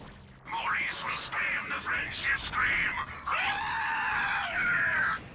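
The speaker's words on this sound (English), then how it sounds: "do I love hearing the friendship scream" A stream follow alert plays a shrill, wavering scream lasting several seconds, with rising and falling wails that run close and loud before ending in a sustained high cry.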